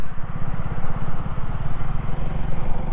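An FB Mondial HPS 125 motorcycle ridden on the road: a close, rapid, pulsing small-engine exhaust burble with steady rumble and wind-like wash, with no talk.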